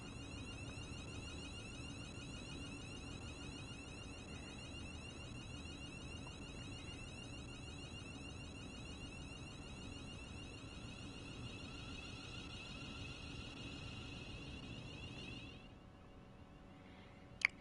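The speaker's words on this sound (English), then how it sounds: "Yeah, there's a beeping again." A faint, steady electronic beeping alarm inside a train cab in the railway simulator game Train Sim World 3, running continuously under a low rumble before cutting out near the end.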